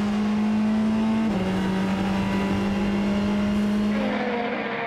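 Racing engines of BMW and Ferrari GTE Pro cars roar loud and steady at close range, a sustained high drone that shifts pitch as the cars battle through a sports car race.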